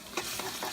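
Brief scrape of a spoon stirring kare kare sauce thickened with peanut butter in a pot, a soft, close, single swirl with no voices.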